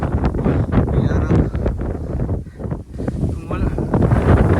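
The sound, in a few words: strong wind on Mt Apo summit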